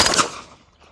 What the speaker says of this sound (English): Give her a nice charge, safety down, and shot.